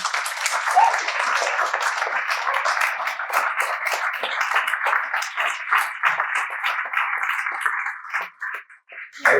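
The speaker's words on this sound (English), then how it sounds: "Maybe a round of applause for the meditation." An audience at a talk claps after a guided meditation, giving sustained, dense applause at an even level for several seconds that then thins to scattered claps.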